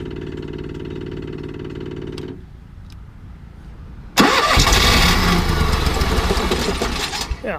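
Cummins Onan 5500 RV generator engine, past 2,500 hours: a steady hum cuts off, then after a pause the engine cranks and bursts into a loud, continuous run that holds to the end.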